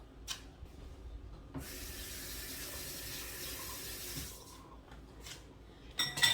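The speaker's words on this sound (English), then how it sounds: "I'm gonna rinse my spoon off." A spoon rinsed under a running kitchen tap while cooking cornmeal, water hissing steadily for a few seconds after a brief splash, then stopping, followed by faint clinks and handling noises, close and quiet.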